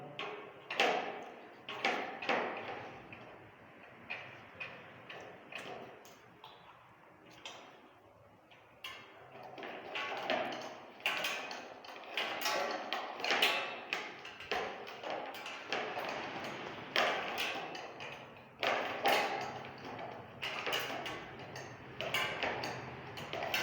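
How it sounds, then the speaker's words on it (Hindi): A nut on a ceiling fan mount is tightened with a wrench or pliers, giving repeated small metallic clicks and taps in irregular bursts, fairly close and moderately quiet, with no talking. "ये हमने चाबी के साथ या प्लास के साथ बिल्कुल फुल टाइट करनी है नट"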